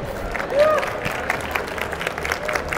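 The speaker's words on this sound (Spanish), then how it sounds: "Un aplauso, por favor." Audience applause at a technology conference talk on the Internet of Things, a short burst of clapping from the crowd mixed with a voice speaking over it.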